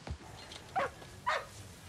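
A dog in a Stranger Things scene gives three short, sharp barks spaced across two seconds, fairly faint and set back in the scene.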